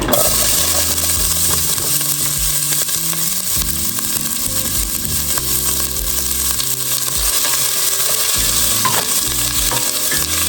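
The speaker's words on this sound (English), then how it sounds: "let's go ahead and throw those onions in there" Onions hit hot oil in a pan while cooking collard greens and fried catfish for Thanksgiving, giving a loud, steady sizzle close up that runs unbroken throughout, with a low hum underneath and no talking.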